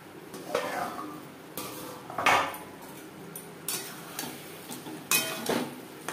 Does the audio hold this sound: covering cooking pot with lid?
yes